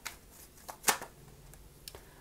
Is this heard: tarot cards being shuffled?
yes